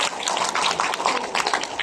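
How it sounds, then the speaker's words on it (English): Audience applause for a direct sponsor at a Riway business gathering, a steady dense patter of many hands clapping close by, alone without talk, holding evenly through the short stretch. "can we give her a round of applause?"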